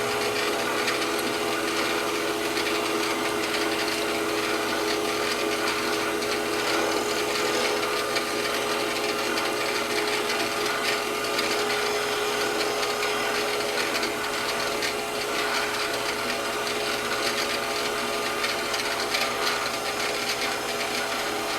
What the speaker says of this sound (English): the first part of the trick is to face off the end of this bar